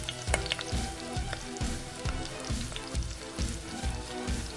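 Fried chicken sizzles in chili gravy in a pan, a continuous crackling hiss broken by regular low thumps and scrapes of stirring or tossing, close and steady throughout.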